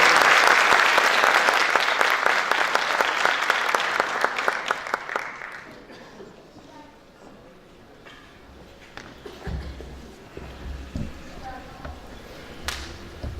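Audience applauds choir conductor Nevzat Karakış in a hall: dense, loud clapping for about six seconds that fades into quieter room noise with a few scattered claps and faint voices.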